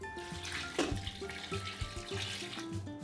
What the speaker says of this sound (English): we're going to add 2 1/2 cups of water.